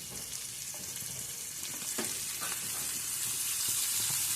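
Chopped ginger and garlic crackle in hot oil for a palak paneer, giving a continuous sizzle that grows slightly louder, with occasional stirring scrapes close by and no talking.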